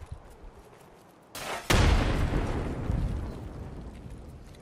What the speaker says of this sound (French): je grenade derrière market